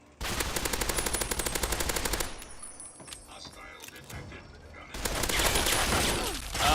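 Loud, close automatic gunfire in Fallout 3's Broken Steel, a fast rattling burst for about two seconds, a quieter lull of scattered clatter, then a second sustained volley near the end.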